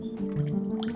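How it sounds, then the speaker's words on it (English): Cold water runs from a kitchen faucet, giving a steady close-up splashing flow with a low tonal hum throughout the short stretch. "This is cold water pressure in the kitchen."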